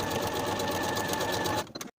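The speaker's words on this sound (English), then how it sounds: "I'm going to sew this seam once again with a 3/8 inch seam allowance" A sewing machine runs a seam along a jacket sleeve at a 3/8 inch allowance, giving a close, steady rapid whir for over a second before it stops abruptly.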